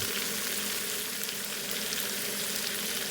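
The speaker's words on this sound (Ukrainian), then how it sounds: "Розігріваємо чару олійки, даємо часничок, даємо ребро." A pork rib with garlic sizzling in hot oil in a pan, a steady, even crackling hiss that stays close and loud without pause.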